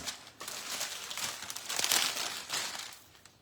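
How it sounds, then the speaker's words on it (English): The plastic wrapping on a supermarket flower bouquet crinkles and rustles close up as it is cut and opened, in a series of crisp, uneven crackles. "You're going to cut the plastic,"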